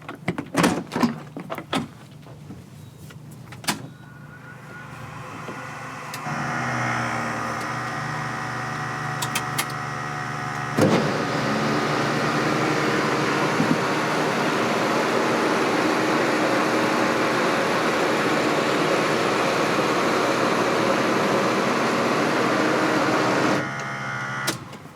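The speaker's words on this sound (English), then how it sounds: "I'll bring the flaps all the way to 35 just so you can gauge, number one, how long they take" The wing flaps of a Kodiak 100 aircraft, driven by a single electric motor, extend to 35 degrees: a few clicks, then a steady whining motor hum that runs for many seconds before stopping, close and alone.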